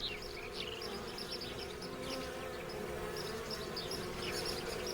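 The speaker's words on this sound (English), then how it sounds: "Wasps drink a lot, then return to the nest and atomize the water with movements of their wings" Wasps in the Italian countryside give off a steady, continuous buzzing hum with no breaks, while faint bird chirps flicker in the background.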